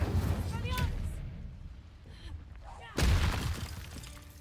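A fire spell is cast in a Harry Potter video game: a sharp crackling burst with a fiery whoosh, followed by a second, louder burst about three seconds later over a rumbling low background.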